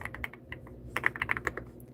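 Rapid clicking keystrokes on a computer keyboard, irregular bursts of close, crisp taps with short pauses, no voice over them.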